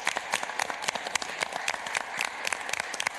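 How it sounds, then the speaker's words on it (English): An audience at a county meeting applauds warmly to welcome a new library director, a dense, even patter of many hands clapping throughout at moderate loudness, with no talking. "a round of applause, welcome."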